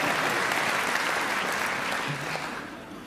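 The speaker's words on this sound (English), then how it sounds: "give him a round of applause" An audience claps for a comedian's assistant at a talk, a dense burst of applause that gradually fades over a few seconds.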